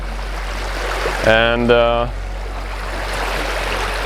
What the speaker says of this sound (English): you can hear the river is alive